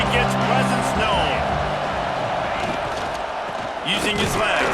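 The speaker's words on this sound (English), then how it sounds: "This crowd ready to make its presence known." A stadium crowd roars at a college football game between Auburn and Duke, a loud sustained wash of cheering and noise heard beneath a commentator's voice.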